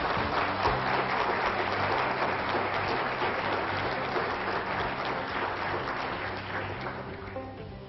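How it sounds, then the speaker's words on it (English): An audience in a conference hall applauds after a live 1998 avatar virtual-worlds demo: dense, sustained clapping from a crowd that slowly tapers toward the end. "the audience should give them a round of applause"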